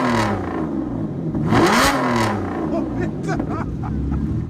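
Aston Martin Vanquish with a V12 engine, a deep, steady engine note that swells into one sharp rising rev midway before settling back to a throaty drone, loud and close.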